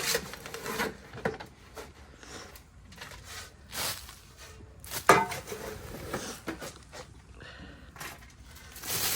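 Scoops of material dumped into a planting hole for a palm tree in a front yard landscaped with river rock, heard as scattered scraping, rubbing and thudding over about nine seconds, with a sharper scrape near the middle and no talking.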